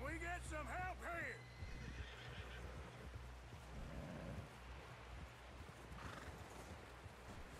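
A horse in Red Dead Redemption 2 lets out a loud whinny at the start, followed by clip-clopping hooves and shouting voices over a noisy outdoor scene.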